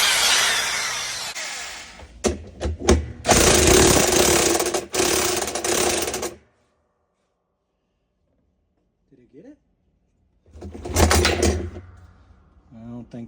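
An impact wrench hammers on the gearcase of a Whirlpool washer held with a puller, giving loud, rattling bursts for several seconds, then a silent pause, then one more short burst.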